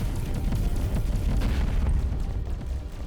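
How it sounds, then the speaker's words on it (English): Space combat in the game Avorion with a weapon barrage going off, heard as a continuous loud rumble of deep booming explosions that overlap densely for the whole stretch without a break. "That was a reasonable barrage to open up with."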